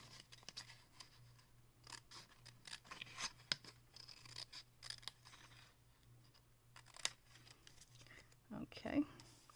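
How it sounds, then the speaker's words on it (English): Scissors snipping freehand through paper for an embossing-powder craft project, giving soft, irregular cuts up close and at low level, with a person talking quietly between the snips. "cut it with just my scissors"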